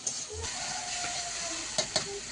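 Bitter gourd and teasel gourd frying together in oil on a home stove, a steady sizzle and hiss with a couple of sharp spatter pops near the end, no talking.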